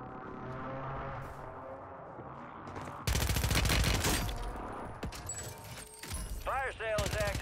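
Call of Duty gunfire erupts in bursts of rapid automatic shots and mechanical clatter, loud and close, with game effects and a voice talking partway through.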